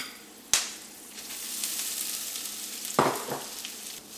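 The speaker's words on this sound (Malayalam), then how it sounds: "ഇനി നമുക്കൊരു മീഡിയം ഫ്ലെയിമിൽ ഇട്ടിട്ട് ഈ തേങ്ങ നമുക്ക് വറുത്തെടുക്കാം." Grated coconut roasting in oil over a medium flame for duck curry gives a steady, close sizzle, broken by two sharp knocks of a stirring spoon on the pan. No one speaks.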